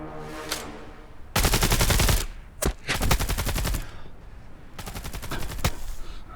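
Bursts of machine gun fire from a Type 88 general-purpose machine gun in a military drama about special forces: three long, dense rapid-fire volleys separated by brief pauses, loud and close, with no talk.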